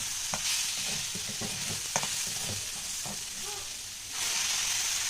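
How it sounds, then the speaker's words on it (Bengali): Spiced rice and lentils with ginger and cumin stirred and fried in a pan for khichuri: a continuous near sizzle with repeated scraping stirs, the hiss swelling louder toward the end. "মশলাটা দিয়েও ভালো করে আমি একটু কষিয়ে নেব"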